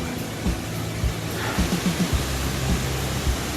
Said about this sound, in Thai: อันนี้คือน้ำตกคลองลานนะครับ